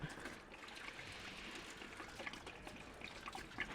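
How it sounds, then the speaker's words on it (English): Coolant trickling and splashing out of a VW Golf Mk2 radiator into a bucket placed underneath, a quiet, uneven liquid pour with small drips and splatters close by. "I just put a big tub underneath to drain some of the fluid out of the radiator"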